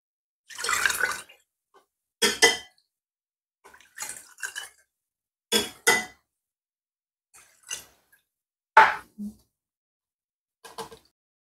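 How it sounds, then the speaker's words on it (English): Fruit punch detox juice drips and splashes through a strainer into a container in a series of short, separate bursts spaced a second or two apart, close by and fairly clear against silence. "Strain it over in my desired container. Because I want it to be smooth as possible."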